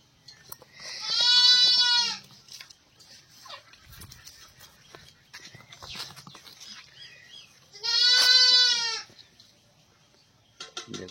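Restless young cattle calves on a farm give two loud, drawn-out calls about six seconds apart, each lasting roughly a second, with quieter shuffling and rustling in between.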